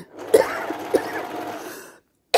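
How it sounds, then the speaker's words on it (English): A few short, rough coughs from a dry throat close to the microphone, followed by a brief pause and another abrupt sound at the end. "I'm coughing. My throat is dry."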